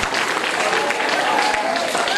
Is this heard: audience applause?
yes